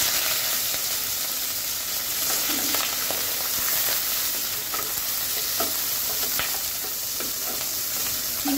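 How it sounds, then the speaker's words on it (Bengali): Shrimp sizzle and fry in hot oil with a steady, dense crackle, with occasional stirring scrapes and clinks on top while making Chinese-style shrimp with Malabar spinach. "চিংড়ি মাছগুলো প্রথমে দিয়ে দেওয়ার কারণ হচ্ছে যে তেলে ভেজে নিলে একটু সুন্দর একটা ফ্লেভার আসবে"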